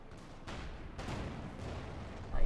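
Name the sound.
flak panzer and Ostwind firing, Company of Heroes 2 video game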